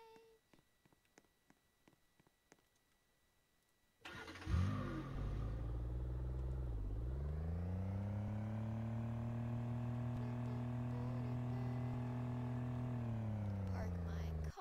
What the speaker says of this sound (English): Park my car.